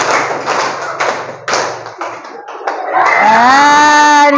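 Sharp hand claps repeat at a steady pace in a classroom clapping drill, with a sustained tonal sound rising up near the end.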